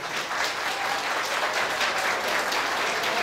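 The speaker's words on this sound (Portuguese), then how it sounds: "recebido calorosamente com aplauso das mulheres de Princesa" Women at an International Women's Day event in Princesa Isabel, Paraíba, applaud warmly as the mayor is welcomed, a loud, steady wall of many hands clapping without pause.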